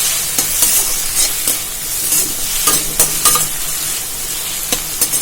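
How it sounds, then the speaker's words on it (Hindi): Masala spice paste roasting in a pan, a continuous hiss of sizzling with repeated scraping stir strokes cutting in every second or so, close and fairly loud. "अब मेरा मसाला ये मेरा भून रहा है, ये देखिए, ये मेरा मसाला भून रहा है यहाँ पे"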